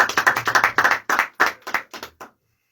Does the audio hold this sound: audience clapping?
yes